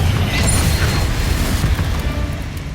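Blasting Confringo spell explosion in the Hogwarts Legacy video game, a loud sustained booming rumble with crackling debris that slowly fades, no talk over it.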